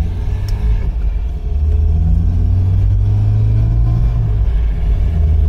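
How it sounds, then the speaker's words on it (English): An MGB classic car's engine pulls steadily under load while driving, a loud, continuous low rumble with a rising tone, heard close from inside the car and without talk. "Engine is pulling much better as well."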